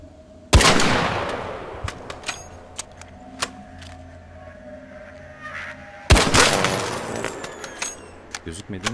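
Two sharp, loud gunshot bursts from a firefight in Arc Raiders, each ringing out with a long decaying echo, separated by scattered clicks and small impacts, with faint background talk.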